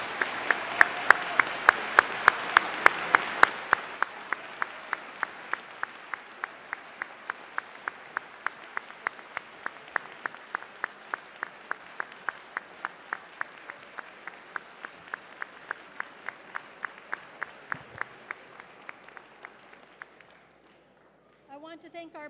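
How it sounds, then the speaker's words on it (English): Audience applause at a 2012 mayoral primary debate: dense clapping from a crowd, loudest in the first few seconds, then a steadier patter of individual claps that thins out before stopping. "Let's give the debaters a big round of applause."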